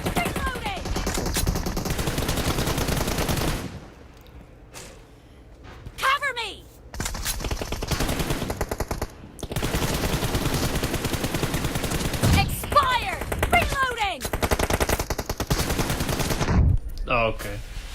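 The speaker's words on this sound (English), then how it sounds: "I love hip firing" Hip-fired gunfire in PUBG Mobile, made up of long dense bursts of rapid loud shots broken by short pauses, with game announcer voices and talking mixed in.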